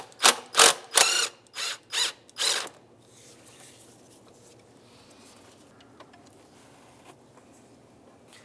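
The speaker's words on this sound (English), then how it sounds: "We're going to remove the top bolt connecting it to the throttle body itself." A hand ratchet loosens a 5/16 bolt on the throttle body bracket of a 2007-2015 Mazda CX-9. Six loud, close ratcheting strokes come in quick succession and are followed by quiet workshop background.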